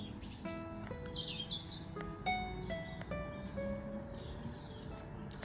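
Birds chirp and tweet steadily at Lake Garda in Italy, many short bright calls from several birds, some close and some farther off, over a soft continuous outdoor background with no voices.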